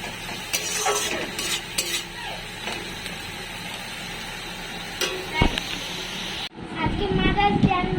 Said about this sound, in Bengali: পোলাওয়ের জন্যে বিনস গাজরটা ভেজে তুলে রাখবো